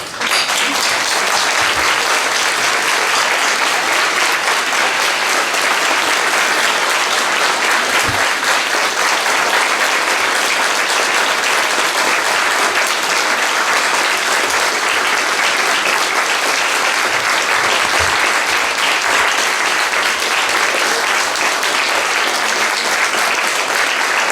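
A large audience claps steadily for the people who performed on stage, a dense, loud, unbroken roar of applause lasting the whole stretch with no talk above it.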